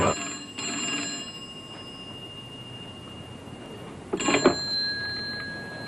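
A telephone bell rings in two bursts separated by a few seconds of quiet, the shrill trill sounding fairly close.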